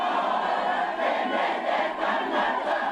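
Massive gathering of more than 10,000 people packing every seat and space at a Treaty Principles protest in New Zealand, a loud, sustained roar of voices and shouting swelling and easing in waves.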